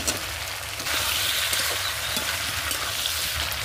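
Papaya, banana and cut potatoes go into a hot frying pan for a Bengali fish curry, a close, continuous oily sizzle that swells slightly louder after the first second and keeps hissing steadily.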